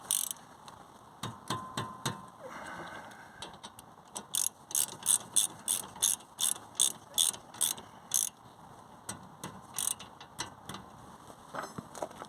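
Ratchet socket wrench clicking on a front brake bolt of a 2016-on Vauxhall Astra K during pad replacement, fitted with the wrong size socket; bursts of sharp, close ratcheting clicks come in quick rhythmic runs with short pauses between.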